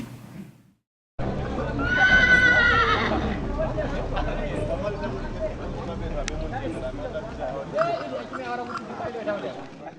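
Working horses in a developing-world setting neigh loudly and repeatedly, with hoof clip-clop and a busy crowd murmur behind them, played back as part of a presentation. The sound starts after a brief silence.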